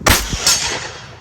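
A Zastava M70 rifle fires a single sharp, loud shot outdoors, followed by a short second crack and a fading echoing tail.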